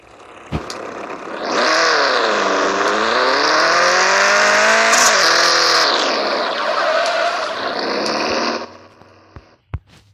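A car engine in the Rebaixados Elite Brasil driving game starts and revs loudly for about seven seconds, pitch rising and falling, before cutting off. A couple of sharp clicks follow.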